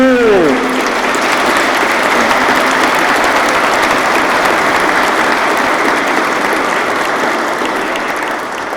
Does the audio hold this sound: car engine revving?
no